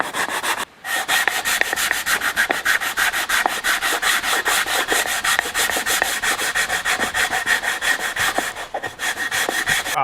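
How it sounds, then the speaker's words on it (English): Sandpaper wrapped on a wood block rubs back and forth in a walnut groove, making quick, steady, close scratchy strokes for the whole stretch. "I got just a little bit of sandpaper on a piece of wood."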